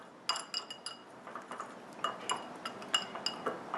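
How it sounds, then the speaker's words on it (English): A whisk clinks briskly against a bowl while miso ginger sauce with garlic and sesame seed is mixed, giving a rapid string of sharp metallic taps with no voices. "I'm just going to whisk that together till it's all mixed in well"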